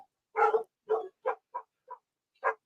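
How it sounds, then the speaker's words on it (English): A dog barks in the background in a series of six short, spaced barks that fade slightly before a final louder one, with no talk over them. "All that barking in the background, that's my team."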